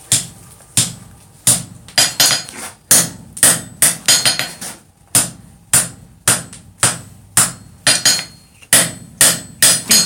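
Hammer blows forging a bolt tong on an anvil, bending the piece to a 45-degree angle at the far side, ringing out in steady close repeated strikes, mostly in pairs and short bursts, loud and alone.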